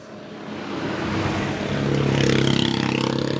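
Motorcycle engine on a long solo ride in Ilocos Norte, heard up close with a steady drone that swells and revs higher toward the end, under wind, with no talk.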